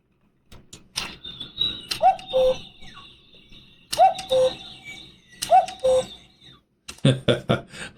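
A wooden ROKR cuckoo clock 3D puzzle model sounds its cuckoo call three times in even repetitions, each a two-note chirp followed by a pause, with mechanical clicks and taps between calls.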